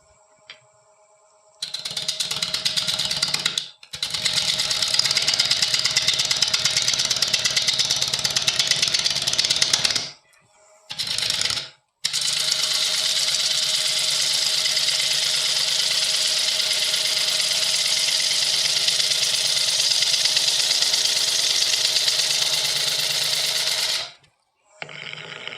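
A spalted beech wood blank spins on a lathe while a half-inch bowl gouge cuts it, producing a loud, continuous whirring roar in long runs that stops briefly twice.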